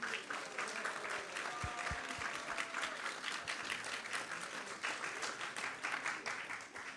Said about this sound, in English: So a big round of applause to Prabhuji.